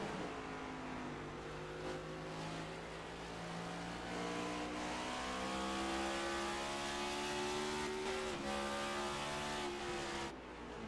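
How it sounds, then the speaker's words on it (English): Race cars in a Scrambler Series playoff race at Richmond Raceway roar loudly and steadily. Harmonic engine tones rise and fall as drivers shift through five-speed gearboxes, with a distinct downshift dip near the end. "You can hear what these 5 speeds these cars have tonight, shifting here at Richmond."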